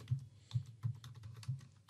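Typing on a computer keyboard while entering a short workflow name in a web app, with a handful of distinct, evenly spaced keystrokes close up and no talking.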